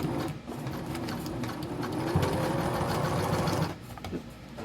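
A sewing machine back stitches fabric for a homemade rock sack, a steady close mechanical whir running for about three and a half seconds before stopping, with a few light clicks after.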